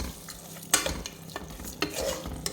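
Tomatoes sautéing with rock salt in a pan for Tamil salna, a spoon stirring and scraping in a few sharp strokes over a steady low sizzle, close and fairly loud.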